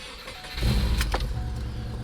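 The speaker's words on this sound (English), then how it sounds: "we can go ahead and start the car" A Subaru GC8 engine cranks and catches at about half a second, then settles into a steady low idle rumble, close and fairly loud, with a brief higher whir partway through.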